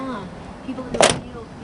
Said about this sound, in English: When the door closes, with my well-greased hinges.